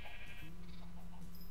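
A sheep bleats in the Minecraft video game, one drawn-out nasal cry over a steady background hum.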